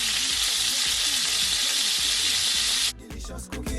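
Chicken pieces for a creamy garlic chicken sizzle loudly in a frying pan as they brown, a steady bright crackle that cuts off near the end, leaving a few clatters and soft kitchen handling noises.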